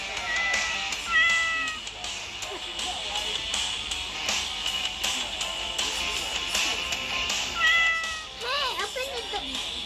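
A cat meowing from inside a cardboard box, repeated plaintive meows scattered through the clip amid rustling and excited voices of people talking nearby.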